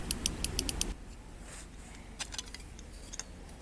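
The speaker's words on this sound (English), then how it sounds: "if you press it it should make a clear and good clicking sound, which this does" A Skoda Fabia Mk1 (1999–2007) boot tailgate micro switch clicking as it is pressed: a quick run of sharp, close clicks, then a few softer scattered clicks in near silence.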